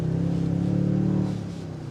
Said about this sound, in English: You get a throaty exhaust note.